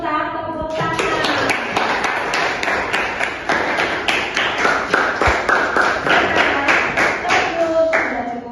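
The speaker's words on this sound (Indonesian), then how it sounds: "kita tepuk tangan" Seventh-grade students in a classroom clap their hands together in a loud, rhythmic run of sharp claps that continues for several seconds.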